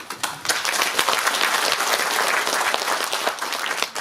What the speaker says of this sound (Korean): 한 분 한 분 소개해드릴 때마다 힘찬 격려의 박수를 부탁드리겠습니다